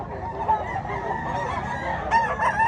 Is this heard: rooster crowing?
yes